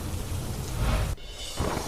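Heavy monsoon downpour in Surendranagar, a dense continuous roar of rain that cuts out abruptly for a moment and then resumes, loud and close with no voices.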